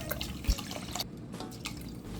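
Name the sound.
rice being washed in water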